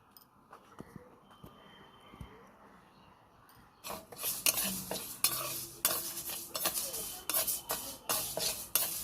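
Whole garam masala spices fry in oil for mung dal with fish head. Quiet light taps give way midway to a close, louder sizzle with brisk, irregular spoon scrapes and clinks against the pan.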